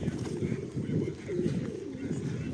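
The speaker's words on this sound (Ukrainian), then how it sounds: "Голуби на місці." Low, soft pigeon cooing runs steadily through the clip in central Truskavets, Ukraine, with some murmuring in the background.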